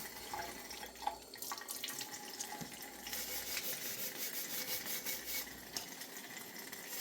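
Water from a tap runs steadily over a metal can as it is hand-washed with Dawn dish soap in a sink, a continuous close splashing with faint rubbing, no voices.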